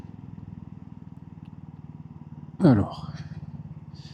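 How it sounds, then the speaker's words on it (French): A Royal Enfield Bullet 350 motorcycle rides through Singapore at night. Its engine beats in a rapid, even thumping pulse, then a short loud burst of a voice cuts in before the engine pulse carries on. "La moto accélère un peu mieux."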